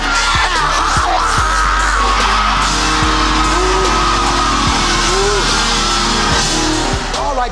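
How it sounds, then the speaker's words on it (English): An audience at a Dr. King Weekend event yells and hollers together, a loud, continuous crowd roar with scattered shouts throughout. "Open up your mouth and holler."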